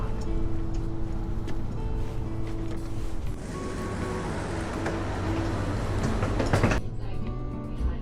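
Austrian regional express train pulling out of a station, a continuous rolling rumble with faint clatter and a brief screech of the wheels near the end, heard alone at moderate volume.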